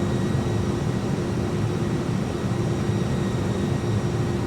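An Airbus A300-600 airliner on landing approach, heard as a loud, steady broadband roar of engines and airflow with a faint constant tonal hum, unbroken for the whole stretch.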